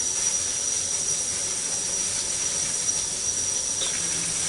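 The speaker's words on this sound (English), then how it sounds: "next thing I'm going to do is wash this off in just tap water here" Tap water running steadily over a pack of raw chicken strips in a home kitchen sink, a continuous even hiss with no talking.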